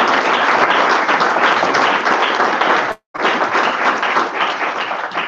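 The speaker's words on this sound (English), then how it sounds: "a round of applause" Sustained audience applause at a hackathon pitch event, a dense steady wash of many hands clapping that drops out abruptly for a moment near the three-second mark before resuming at full strength.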